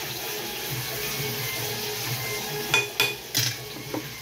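Dishes and pots being washed under running water in a kitchen sink, a steady tap flow broken near the end by a few sharp metallic clanks of utensils knocking together.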